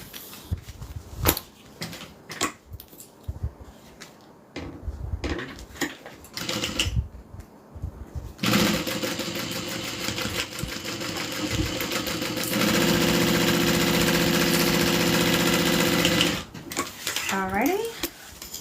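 A home sewing machine stitches fabric in a steady, loud whir that runs for several seconds and then stops, preceded by clicks and handling of the machine and cloth.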